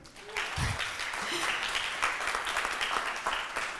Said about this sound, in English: So please, a warm round of applause for them.